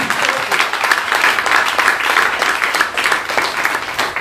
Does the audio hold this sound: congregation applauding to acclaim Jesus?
yes